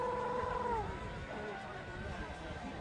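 Pet cat meowing close by in a quiet room early in the morning, one drawn-out wavering meow followed by softer murmuring vocal sounds.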